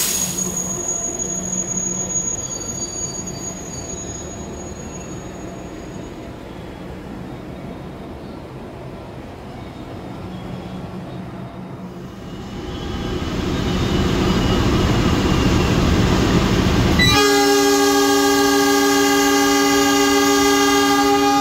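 A CC206 diesel locomotive pulling a train out of Gambir station, its engine hum building to a heavy, loud rumble, then a long, steady horn blast near the end.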